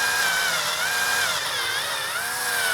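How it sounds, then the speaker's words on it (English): A power drill bores out a hole in a Fallout Pip-Boy 2000 Mk VI prop, a steady whining drone with slight pitch wobbles as the bit works through the plastic, close and continuous. "so I'll drill this out as well."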